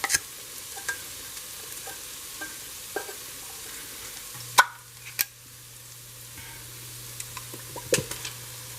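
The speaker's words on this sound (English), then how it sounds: "So now I'm going to add cream of mushroom sauce, soup rather." A spoon scrapes and knocks in a pan while cream of mushroom soup is stirred into cooked-down onions and green seasoning over low heat, giving a scattering of close, irregular clinks and taps over a faint background hum.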